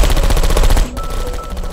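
Portal 2 sentry turrets pour out rapid automatic gunfire, a dense loud stream of shots that cuts off abruptly partway through, leaving quieter game ambience behind.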